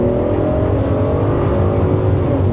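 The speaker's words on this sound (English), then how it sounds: "I'm gonna give you an acceleration run here and show you the power of the Pentastar" A van with a Pentastar 3.6 liter engine accelerates at full power, a loud, close, continuous engine roar with rising tone and no talking.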